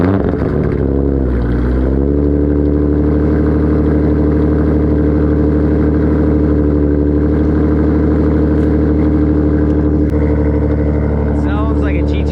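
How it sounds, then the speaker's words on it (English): Cold start of a Nissan 350Z: the engine cranks and catches, then settles into a loud, steady, throaty exhaust idle close by, with a brief change near the end. "I'm gonna give you guys a little cold start."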